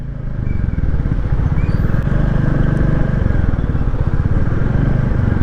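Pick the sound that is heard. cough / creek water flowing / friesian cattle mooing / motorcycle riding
motorcycle riding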